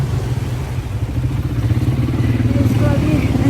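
Motorbikes ride along a narrow tree-lined path beside a drainage channel in Bali, their mid-pitched engines droning steadily and close by, building slightly toward the end.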